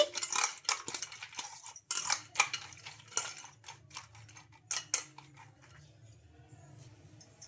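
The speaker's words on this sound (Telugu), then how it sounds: "ఇంకా ఈ ఎగ్ వేసుకొని ఇలా ఒకసారి మొత్తం బాగా కలిపేసుకోవాలి" Peanuts and an egg stirred together in a bowl for a homemade peanut-egg snack, with a spoon scraping and clinking against the bowl in quick irregular bursts and light crunchy rattles throughout.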